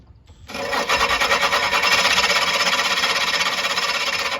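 A reel mower blade being backlapped with grinding grit against the bed knife gives a loud, steady rasping grind with a fast pulsing rhythm, starting abruptly and running continuously close by with no talking.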